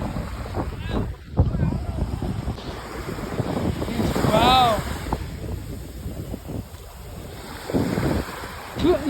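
Wind buffets the microphone on Pent sea beach while ocean waves wash in steadily, with surf rumbling under it and a few distant voices calling out at times.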